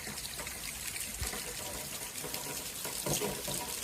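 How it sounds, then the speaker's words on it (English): Rainwater from a heavy downpour drains into a pipe with a steady, fairly quiet rushing and trickling wash that continues throughout without a break. "Slowly starting to drain, but it's raining pretty hard."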